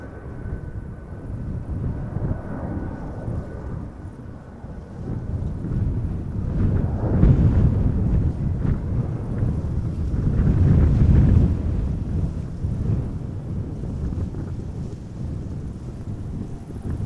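A 17-year-old KLM Airbus A330-200 at Amsterdam Schiphol Airport gives off a deep, rushing jet roar that swells to a peak and then fades, heard outdoors with wind buffeting the microphone.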